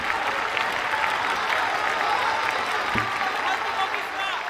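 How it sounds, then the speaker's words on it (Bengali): An audience at a stage show applauds with dense, continuous clapping that holds steady and fairly loud, while someone speaks over it. "হাততালি।"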